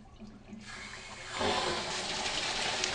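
Water from the supply of a Viking single-interlock preaction sprinkler system surges through the deluge valve, starting as a soft trickle before rising abruptly into a loud, steady rushing hiss.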